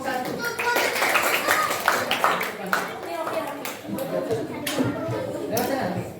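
Students in a classroom clap for a group called up to present, a dense run of applause lasting several seconds. Children's chatter and a teacher's voice mix in over the clapping.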